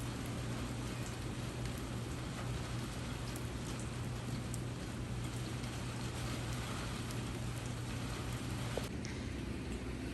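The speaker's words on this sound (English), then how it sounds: "If you can hear the rain" Steady rain falling outside, heard through a partly open screen door, a continuous soft hiss of drops with a low constant hum underneath, no voices.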